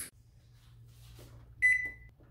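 A kitchen oven beeps while it is set to preheat to 350 degrees, giving one clear, fairly loud electronic tone after a couple of faint clicks of the controls, with no talking.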